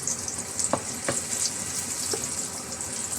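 Bottle gourd sautéing with misua and sardines, a steady close sizzle of frying with a few soft stirring knocks in the first half, and no voices.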